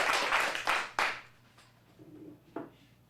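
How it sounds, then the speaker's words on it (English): An audience at an adult acting showcase claps for a performer. A few loud bursts of hand clapping quickly fade to scattered, faint claps. "Let's give him a big round of applause."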